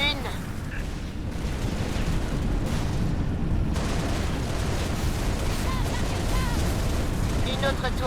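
Turret being destroyed in Halo Reach: a long, continuous roar of explosion and battle din, loud and steady throughout, with a few sharper bursts and brief tonal effects layered on top.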